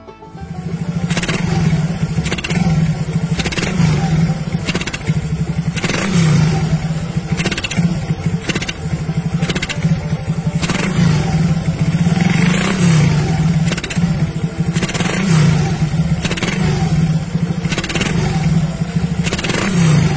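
A carbureted motorcycle engine runs loud and close after its idle screw is adjusted, revving repeatedly in a steady rhythm of rising and falling throttle blips over a constant clattery drone.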